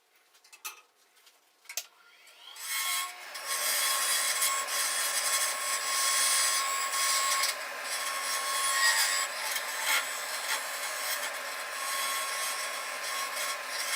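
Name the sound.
segmented wood bowl being turned on a lathe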